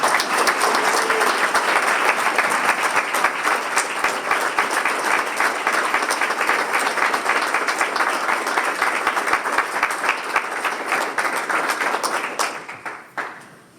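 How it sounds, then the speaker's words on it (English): Audience applause at a men's gathering event, a dense sustained roar of many hands clapping for about twelve seconds before fading out quickly at the end. "Let's give him a Buckeye round of applause."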